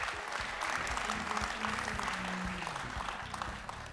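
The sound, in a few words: audience applause welcoming a speaker on stage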